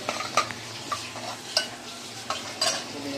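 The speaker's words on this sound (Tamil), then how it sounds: "நல்லா பொன்னிறமாக வர வரைக்கும் கொஞ்சம் எண்ணெயிலேயே வாட்டி எடுத்துக்கணும்" Tomatoes for tomato burtha fry in oil until golden, a steady sizzle under repeated clicking scrapes of a spoon stirring the pan, close and moderately loud, with no talk.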